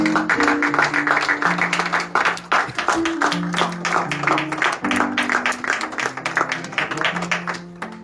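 A church congregation applauds in a rhythmic burst of clapping, fairly loud and sustained, while a sung or spoken voice carries along over the hands.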